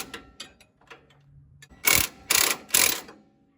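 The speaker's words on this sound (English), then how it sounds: "So using a pry bar and impact wrench, pry this off." Three loud, rattling bursts from an impact wrench, with a pry bar, hammer at a rusted front strut on a 2013 Ram 1500 4x4, close by, following a few quieter knocks and taps.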